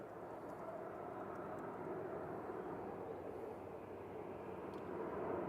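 A KLM airliner lines up on the runway at Manchester Airport, its engines giving a steady, distant broadband rumble that holds evenly throughout with no talk.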